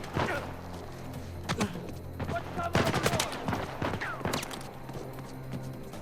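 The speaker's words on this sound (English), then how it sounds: "I'm being shot at." Gunfire erupts in the Uncharted 4 action game, sharp scattered shots and short volleys cracking at moderate distance over a low ambient bed, while voices talk in between.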